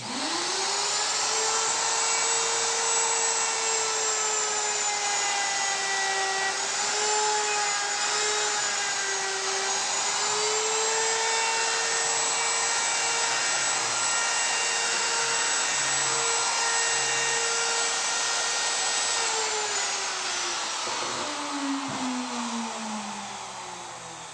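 A power tool cuts a leg indent along a template, giving a steady, loud high-pitched motor whine that holds for about twenty seconds and then winds down near the end. No one speaks.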